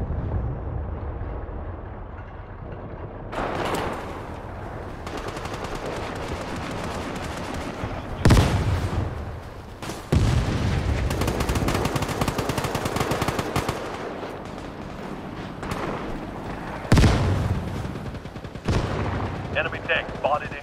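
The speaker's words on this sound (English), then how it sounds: "Enemy airstrike, fast approaching." Enemy airstrike in a war video game: heavy bursts of machine-gun fire and loud explosions hit in waves, with booming blasts and rattling gunfire filling the scene and a voice calling out in the mix.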